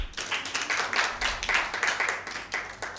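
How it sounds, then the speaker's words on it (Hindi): Audience applause for a team answering correctly at a Bible quiz held at Sacred Heart Cathedral Girl School; dense, steady clapping from many hands fills the room without pause for the whole stretch. "इनके लिए भरपूर तालियां"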